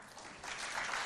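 An audience applauding at a school quiz contest, clapping that swells from soft to a full, steady round of applause.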